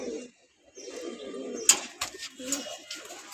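Pigeons coo softly in a loft, low rolling calls rising and falling close by, with brief sharp clicks and scuffles and some indistinct talk in the background.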